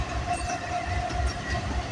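A CP freight train with a distributed power unit in the consist rolls past close by, giving a steady low rumble with a faint tonal hum and no horn, heard alone in a short burst.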